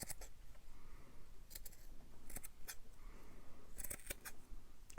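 Small, crisp snips of scissors cutting fabric scraps come in scattered clusters, sharp metallic clicks close by against a quiet background.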